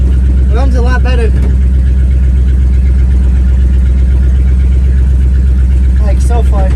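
A Mopar 360 V8 fitted with an Edelbrock 1906 carburetor idles with a loud, steady low rumble throughout, with brief voices near the start and end.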